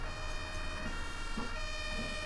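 Ambulance siren in the Omsi 2 bus simulator game, a steady wailing tone running the whole time over a constant low engine drone and road noise, moderately loud.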